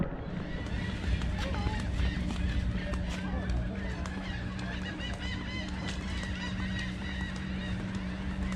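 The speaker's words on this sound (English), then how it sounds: "Seagulls everywhere." Seagulls call all around during a cruise, with many overlapping squawks and honking cries close by that form a busy chorus. Voices can be heard faintly in the background.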